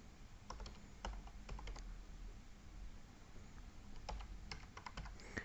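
Computer keyboard keys tapped at an irregular pace while a password is entered, a quiet run of light clicks over a steady low background hum, with no voices.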